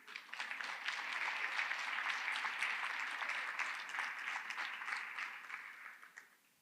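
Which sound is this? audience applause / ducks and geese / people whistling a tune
audience applause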